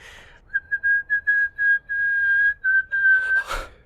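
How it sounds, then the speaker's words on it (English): A person whistles a short tune nearby, with a series of clear, clipped notes followed by a longer sustained tone, ending with a brief rustle. "I'm going to whistle a tune."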